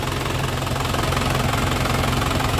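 A 1998 Isuzu Panther Grand Royale diesel engine idles with its dipstick pulled out, giving a steady, loud, close knocking clatter with a low rhythmic throb and no talking.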